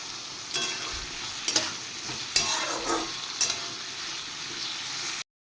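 Food frying in a pan with a little salt added, a steady close sizzle broken by several sharp bursts of scraping as it is stirred, then a sudden cut to silence near the end.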